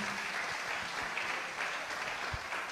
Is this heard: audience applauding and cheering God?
yes